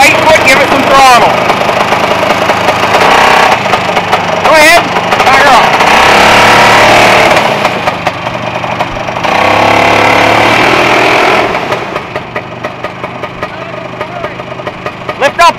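A Snowbug Superbug snowmobile engine running loud and close, revving up and down as throttle is applied, then settling to a lower idle, with people talking over it.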